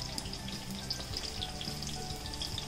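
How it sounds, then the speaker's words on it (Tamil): Oil sizzling and crackling in a pan with a constant fizzing hiss and scattered pops as garlic and shallots fry. "இப்போ இதை நல்லா ஃப்ரை பண்ணிக்கலாம்."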